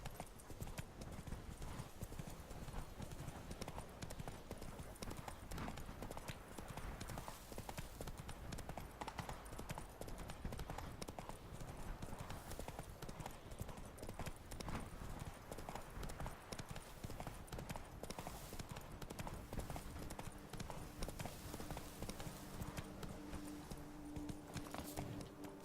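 Hooves of the horse Roach clip-clop steadily in The Witcher 3: Blood and Wine, a continuous rhythmic galloping beat over game ambience, with occasional snorts and faint talk in the background.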